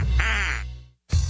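A duck quack sound effect in a radio advertisement: one long, nasal, buzzy quack, loud and up front, fading into a short gap before the program sound resumes.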